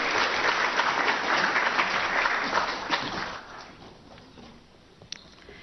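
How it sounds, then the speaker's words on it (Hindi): Loud applause from an audience at the opening of an art exhibition attended by the President, steady at first and then fading over the final seconds, with a brief sharp clap near the end. "जोरदार तालियां एक बार और माननीय राष्ट्रपति महोदया के लिए।"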